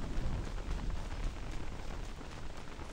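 Steady rain falls in the video game Don't Starve Pocket Edition, a dense, even hiss of drops on the ground that fills the whole stretch without breaks, loud and close with no voices.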